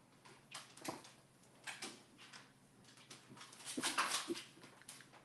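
A dog whimpers and whines in short, high, broken bursts, fairly close and soft, repeating unevenly over a few seconds in a quiet room.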